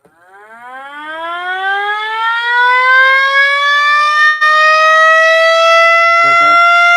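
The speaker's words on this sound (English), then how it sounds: "We'll do one more blast here. You guys tell me, oh, that doesn't sound like an STH-10." A 3D-printed mini STH-10 siren winds up from a low start into a loud, steady wail that rises in pitch and then holds, with a faint background knock near the end.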